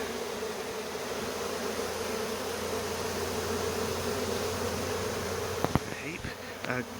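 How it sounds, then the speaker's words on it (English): Honeybees buzz densely around a hive box during a relocation, a loud, continuous drone close to the microphone, with a few sharp knocks and clicks of handling toward the end. "Still got a lot of bees in the box."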